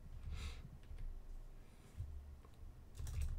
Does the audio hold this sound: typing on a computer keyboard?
yes